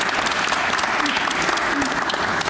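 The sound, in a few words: audience applause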